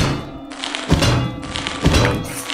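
In the video game Lethal Company, two heavy thudding stab impacts land about a second apart over a dense, noisy game soundscape, close and fairly loud.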